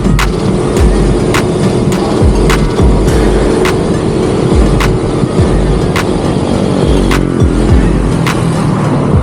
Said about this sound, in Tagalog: Ay, may traffic.